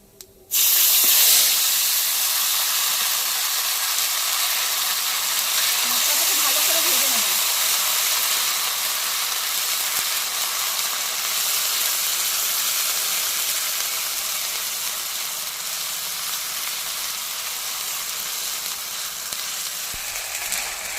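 Ground spice paste hits hot oil with a sudden loud sizzle, then fries in a steady, dense hiss that slowly eases over about twenty seconds, fried for a taro and potato curry.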